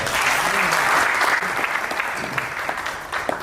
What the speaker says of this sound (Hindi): जोरदार तालियां बजा लीजिए अगर ये प्रोडक्ट अच्छा हो